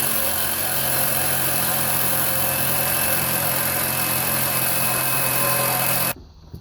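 A pickup truck engine with a leaking, makeshift-patched oil pan idles roughly, a loud, steady uneven rumble with rattling vibration that runs for about six seconds before cutting off abruptly.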